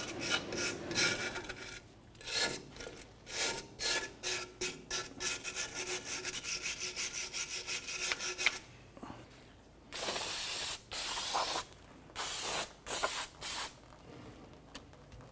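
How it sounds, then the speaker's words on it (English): Someone cleans the drum brake backing plate of a 1994-2004 Chevrolet S10, first with a long run of rhythmic scrubbing strokes, then with several loud, close bursts of aerosol spray, and nobody speaks. "I'm going to go ahead and clean up our backing plate here."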